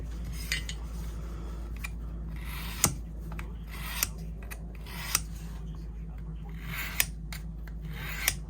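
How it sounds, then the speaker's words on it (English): A damaged Case XX or USA-made knife blade being sharpened by hand, with a soft continuous rasping scrape and several sharp metallic ticks spaced about a second apart, close and moderately loud. "we're fitting to sharpen this one now"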